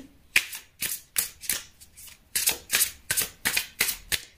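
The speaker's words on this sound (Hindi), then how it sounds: "अभी उसके पार्टनर के कार्ड निकालेंगे" Tarot cards are shuffled and pulled one after another in a run of about a dozen crisp, papery riffles and snaps, close and fairly loud with short gaps between them.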